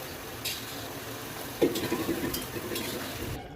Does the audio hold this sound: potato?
yes